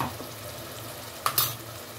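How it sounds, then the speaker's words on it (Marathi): Garlic paste and onion frying and being stirred in a pan for egg biryani, a soft steady sizzle with a couple of brief sharp scraping clinks near the end. "त्याला अजून थोडासा या कांदा बरोबर परतून देणार."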